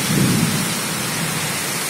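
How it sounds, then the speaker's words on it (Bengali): Steady heavy June rain pours down in a dense, continuous hiss, with a low rumble of thunder rolling near the start and fading into the downpour. "দেখেন জুন মাসের বৃষ্টি।"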